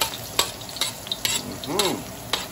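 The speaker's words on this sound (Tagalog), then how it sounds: "Lagay na po natin yung ating bawang. Yan, gisa-gisa lang po." Garlic sautés in hot cooking oil with a bright, crackling sizzle, punctuated by several sharp spatula scrapes and taps on the pan at irregular intervals.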